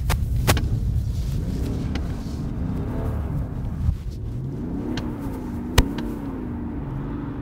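A BMW 530d xDrive with a 3-litre diesel engine accelerates hard on ice, giving a loud, close, continuous engine rumble whose pitch rises and wavers, broken by a couple of sharp clicks.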